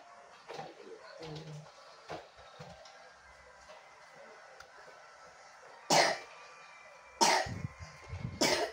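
Several sharp coughs, a couple of faint ones early and then louder bursts near the end, set against a quiet background.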